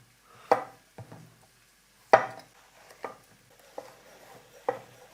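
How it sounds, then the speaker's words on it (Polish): A knife chopping a small zucchini on a board, sharp distinct thuds at an uneven pace, about eight strikes close up in a quiet kitchen. "teraz pokroję jedną niewielką cukinię"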